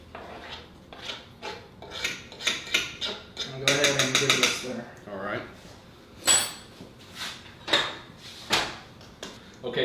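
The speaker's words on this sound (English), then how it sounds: "I'll go ahead and give it a stir." A spoon stirs a pot of gumbo with freshly added parsley and green onion, giving repeated scraping and clanking strokes against the pot, with a louder burst in the middle, while people talk on and off nearby.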